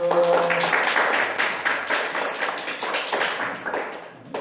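Applause at a gift presentation during a youth church service, a moderate stretch of crowd clapping that fades slightly toward the end, with a brief voice at the start.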